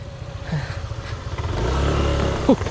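A motorcycle engine rumbles at close range, its low idle building into a steadier, heavier drone as the bike pulls away, with a short clatter near the end.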